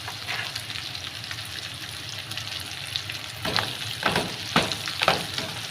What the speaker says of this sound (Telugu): ఇవైతే బాగా పచ్చివాసన పోయినంత వరకు అయితే వేయించుకోవాలన్నమాట.